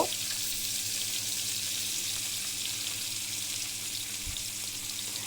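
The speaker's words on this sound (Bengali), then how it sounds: "এই দুইটা মাছ ভেজে নিচ্ছি" Oil sizzles and crackles in a continuous hiss as fish fry lightly in a pan close by, with no talking.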